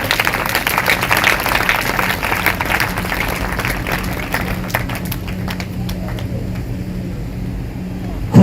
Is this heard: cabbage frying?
no